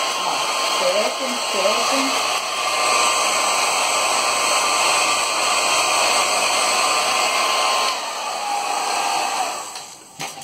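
A hair dryer blows steadily and loudly close by as it dries a belly, a constant rushing whir that runs nearly the whole time and cuts off near the end, with a voice briefly heard over it early on.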